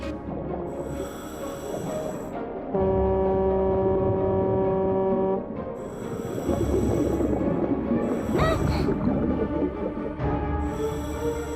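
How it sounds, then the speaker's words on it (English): A loud, sustained air horn blares in one long steady tone in a Transformers: Rescue Bots cartoon, set against rumbling background noise and other honking sounds. "The air horn."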